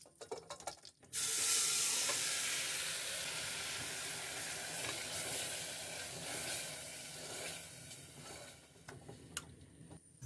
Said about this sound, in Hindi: अब हमने जो बीफ को मैरिनेट करके रखा था ये ऐड करेंगे।